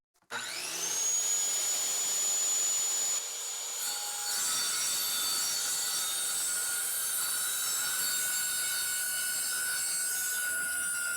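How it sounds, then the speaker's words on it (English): A spinning saw cuts wood for a shooting bench, giving a sustained, close, bright whine with a steady grinding rasp that holds without pause for most of the clip. "Get it spinning first. Son, I know how to use a saw."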